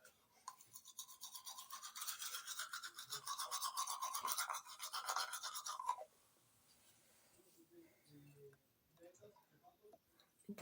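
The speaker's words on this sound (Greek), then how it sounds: "έπλυνα τα δόντια μου" Bristles of a toothbrush scrubbing teeth with toothpaste, a close, rapid rhythmic brushing for about six seconds, then stopping, leaving faint handling noises.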